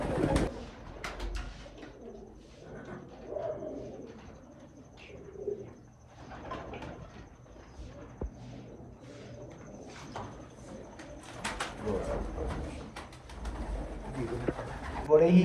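Sialkoti breeder pigeons coo softly in a loft, their low repeated calls rising and falling at close range, with scattered wing flutters and someone talking quietly in between.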